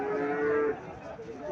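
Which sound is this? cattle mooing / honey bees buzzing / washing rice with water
cattle mooing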